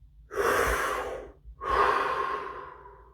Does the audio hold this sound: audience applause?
no